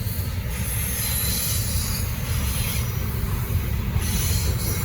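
A Norfolk Southern freight train rolls past close by, including C6M, Jevo and ACE locomotives. It makes a loud, continuous rumble of wagons with high wheel squeal throughout.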